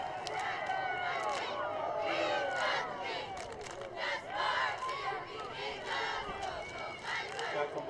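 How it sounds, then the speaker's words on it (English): Crowd cheering carries across the field at a Greeley West versus Broomfield high school football game, a distant roar of many voices rising and falling under an announcer's commentary. "You can hear the cheering across the field."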